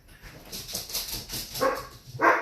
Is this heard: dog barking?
yes